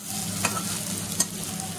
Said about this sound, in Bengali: করলা ভাজা ডান হয়ে গেছে